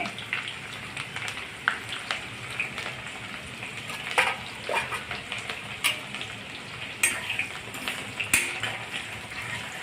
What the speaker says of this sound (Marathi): आता कांदा टाकणे अगदी छान परतून घेणे